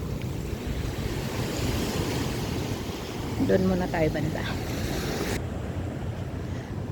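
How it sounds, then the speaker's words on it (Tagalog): Steady cold wind rushing across the microphone outdoors at The Entrance, Central Coast, New South Wales, Australia, with a brief spoken phrase partway through. "Ang lamig ng simoy ng hangin."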